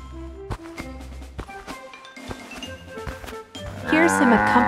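Cartoon cattle low and moo amid a busy mix of sounds, with a louder, drawn-out moo near the end over background noise and some voices.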